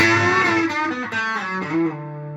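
A short, distorted electric guitar phrase with sliding notes, played up close and ringing out at the end, with no voices.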